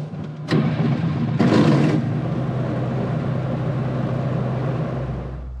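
Gyroplane engine with the throttle cracked just slightly open, giving two short rising bursts of power and then settling into a steady, fairly loud idle hum close by, with no talk.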